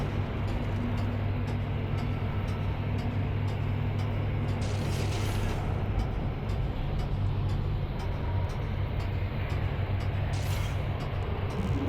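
A continuous low mechanical rumble of elevator machinery in the Dead Space game, with faint creaks and occasional hissing swells over a steady grinding drone.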